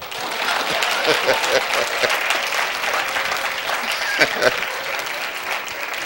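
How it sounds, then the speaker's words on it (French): A church congregation gives steady, full applause during a sermon, a dense wash of clapping that holds evenly with a few louder claps and faint voices mixed in. "Applaudissez pour mon papa."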